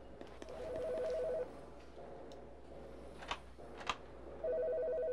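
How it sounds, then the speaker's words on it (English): A telephone rings inside a building in a video game, its electronic double-tone trill repeating in regular bursts at moderate distance, with faint clicks and thumps between rings. "there's a phone ringing in here, but all these doors are closed."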